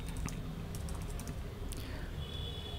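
Quick, light keystrokes on a computer keyboard, tapping in a close, steady stream of clicks with no talking.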